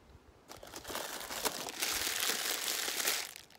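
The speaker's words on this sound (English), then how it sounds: "Crinkly paper, it will also catch the light." Crinkly paper is crumpled and scrunched in the hands, a soft crackling that starts after a pause and builds to a dense rustle before easing off.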